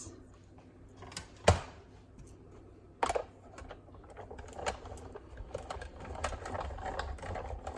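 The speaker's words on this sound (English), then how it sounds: "And then I run it through my die cutting machine" A die cutting machine feeds a Post-it note through its rollers, giving a steady low mechanical hum and grinding with two sharp clunks near the start, close and fairly quiet, with no talking.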